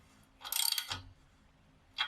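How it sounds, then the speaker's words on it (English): A ratchet wrench tightens an axle nut on an Acura Integra GS-R, a quick burst of close metallic clicks followed by a pause and a second short burst. "I'm gonna ratchet it on so that it's nice and tight"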